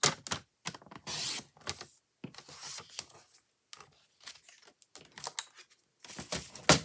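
Scissors snip through a piece of cardstock to trim two inches off, giving a quick series of short, crisp cuts with brief pauses between them, close and alone.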